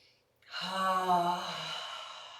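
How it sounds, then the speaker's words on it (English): A single deep breath is taken in and let out slowly through the mouth during an arm-stretching yoga practice. It is soft, close and breathy, with a short pause before it and no talking. "Take 3 big breaths here"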